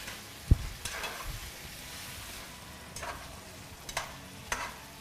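Chow mein with cabbage being stirred in a pan, soft scraping and light sizzling with a few sharp utensil knocks against the pan, close and quiet, no voices.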